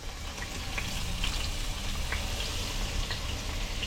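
Bass fillets frying in hot oil over high-medium heat give a steady, dense sizzle with faint scattered pops, holding at an even, moderate loudness throughout.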